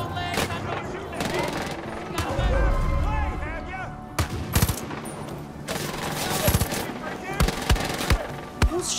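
A firefight at a roadblock in Far Cry 5 rattles on with rapid automatic bursts and heavy single shots, loud and close and almost without a break, while voices call out over the shooting.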